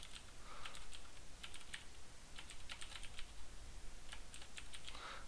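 Someone types a file name on a computer keyboard, a quick run of close, crisp key clicks in uneven bursts with short pauses, alone without talk.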